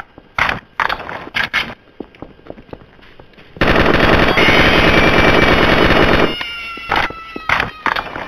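Loud, dense bursts of automatic gunfire from a gun in Garry's Mod, a long sustained burst in the middle with shorter rapid volleys before and after.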